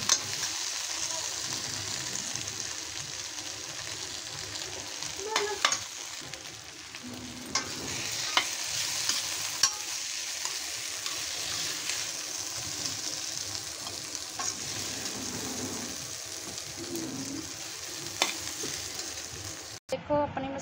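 Masala okra (bhindi) frying in a pan gives a steady, close sizzle for the whole stretch, with scattered scrapes and clicks as a spoon stirs it.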